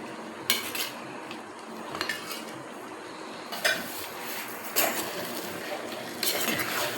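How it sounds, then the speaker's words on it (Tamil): A spoon stirs brinjal pachadi cooked in sesame oil in a metal pan, producing a few sharp clinks and scrapes against a soft background sizzle. "நல்லா இப்படி கிளறி விடுங்க."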